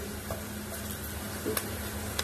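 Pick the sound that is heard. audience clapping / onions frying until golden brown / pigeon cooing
onions frying until golden brown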